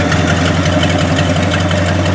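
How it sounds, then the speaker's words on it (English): A Packard Straight 8 car engine with a newly installed distributor runs at a steady idle, a close, loud, even low rumble with a faint rhythmic pulse and no other sounds. "So now we're going to turn the ignition on, hit the starter button,"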